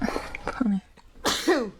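A single sharp sneeze bursts out near the end, loud and close, following a stretch of speech.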